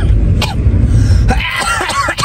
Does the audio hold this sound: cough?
yes